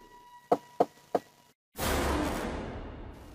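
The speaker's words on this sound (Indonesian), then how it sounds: "Aku kemudian mendekati pintu itu dan mengetuknya." Three sharp, evenly spaced knocks rap on a door in an illustrated Indonesian horror story, close and distinct, followed by a brief silence and then a long, broad whooshing rush.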